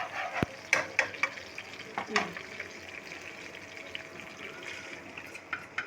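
A spoon stirs kofta curry masala in a pan at home, with soft scraping and light sizzling. A few sharper clinks of utensil on metal stand out against a quiet background.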